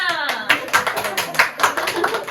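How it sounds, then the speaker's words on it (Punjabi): A family claps at a child's birthday celebration at home, a quick run of sharp hand claps mixed with chatter and voices in the room. "ਤਾੜੀਆਂ"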